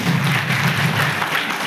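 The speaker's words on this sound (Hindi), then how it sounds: "एक जोरदार ताली आप सभी के लिए।" An audience claps at a motivational talk, a dense burst of applause that stays steady and fairly loud through the short stretch with no voices over it.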